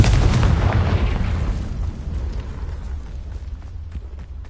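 A fiery Confringo spell explosion in Hogwarts Legacy bursts loudly at the start, then rumbles and crackles as it decays over several seconds, with no voices.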